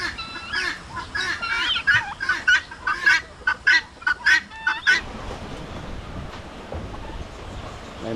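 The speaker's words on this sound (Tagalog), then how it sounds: "May mga manok pa tayo dito na naglimlim oh." Chickens on a small farm giving a run of sharp, rhythmic clucks and squawks up close, then quieter, scattered farmyard sound with no calls.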